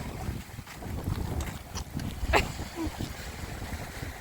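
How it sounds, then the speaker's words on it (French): Steady gusting coastal wind with windsurfers out roars and buffets the microphone in a low rumble, with faint voices and splashy outdoor noise underneath. "Il y a du grand vent aujourd'hui."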